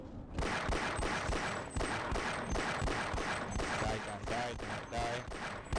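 Pistol fire in Half-Life during a boss fight, a rapid, regular series of sharp shots close up, continuing for several seconds with brief tonal game sounds mixed in.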